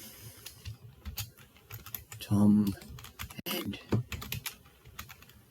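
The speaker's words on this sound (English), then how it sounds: "I start typing" Quick, irregular clicks of typing on a computer keyboard, close by, with a few brief spoken words partway through, while typing into a text box in GIMP.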